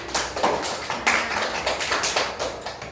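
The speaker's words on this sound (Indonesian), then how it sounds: "Tepuk tangannya." A classroom of students applauding together in a microteaching lesson: dense, continuous hand clapping with a slight pulsing rhythm, fairly close and even, with no talking over it.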